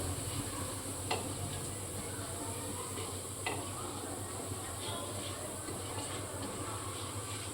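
Chana dal and urad dal roast in a little oil in a pan over low gas for upma, a faint steady sizzle with a couple of light stirring scrapes.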